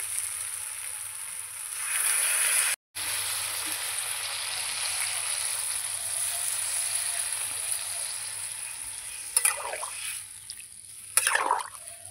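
Water splashed into a pan of frying ridge gourd, potato and spices, making a steady loud hiss and sizzle that drops out briefly and then continues. Two louder stirring splatters come near the end.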